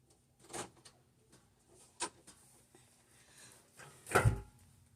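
A door closes indoors in a home, with a few soft knocks and clicks, then one louder thud near the end. No one speaks.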